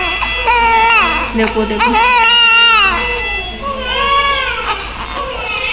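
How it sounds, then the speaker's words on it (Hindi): A newborn baby cries in loud, wavering wails with short breaks between them, close to the microphone, while someone speaks briefly over the crying. "बस आप लोगों को रोने की आवाज़ सुना रही हूँ।"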